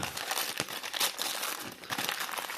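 Packing tape and paper crinkle and crumple steadily as a parcel holding cupronickel coins and a spoon is unwrapped, a close, continuous rustle with sharper crackles and no voices.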